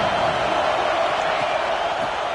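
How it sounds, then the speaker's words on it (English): Steady stadium crowd roar from the NCAA 26 college football video game during a Texas Tech game on fourth and short, a continuous, dense wash of cheering that stays loud and even with no clear breaks. "Listen to the crowd energy here in the early going."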